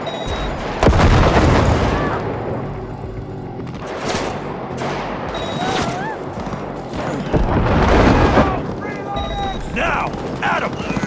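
Game gunfire in Cyberpunk 2077 during a corridor firefight, with loud booming shots and bursts running throughout under shouted voices and combat noise.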